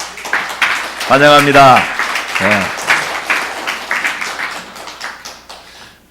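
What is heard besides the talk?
congregation applause welcoming guests from Pakistan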